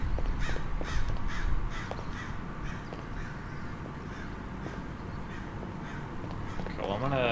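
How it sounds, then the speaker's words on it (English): Game ambience from Liminal City's abandoned city carries a series of crow caws, harsh calls repeating at irregular intervals above a steady low rumble. "just because I heard those crows, I'm gonna go check over here and see what's going on"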